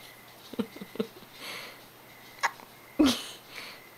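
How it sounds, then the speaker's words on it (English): A small child hiccups, a few brief, sharp catches with gaps between them, close by and fairly quiet. "Do you have the hiccups,"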